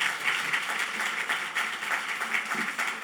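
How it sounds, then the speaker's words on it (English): An audience at a women's heart health symposium applauds the speakers, a steady wash of many clapping hands, moderately loud and even, with no talking over it. "Please give them a round of applause."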